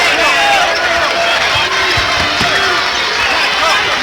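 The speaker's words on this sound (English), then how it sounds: "Crowd is looking for any reason to get involved, and that three-pointer woke them up a little bit." Basketball arena crowd in a 1988 college game, loud sustained cheering and roaring after a three-pointer, with sneaker squeaks and shouts scattered through the continuous noise.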